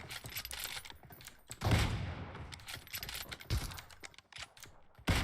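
Rapid gunfire bursts from a shooting video game, sharp clustered shots with several louder volleys, heard alone without any talking.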